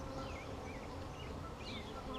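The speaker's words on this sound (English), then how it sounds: "She's got a whole bunch of bees around her." Honeybees hum densely in a top bar hive as they cluster around the queen during a hive split, a close, continuous buzz that stays steady throughout with some birdsong faintly behind it.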